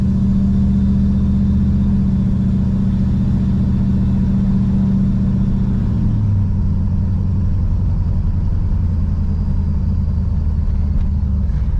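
A 1987 Monte Carlo SS, freshly converted from carburetor to fuel injection, drives along with a steady, loud engine drone and road rumble from inside the cabin, the engine note dropping as it shifts partway through.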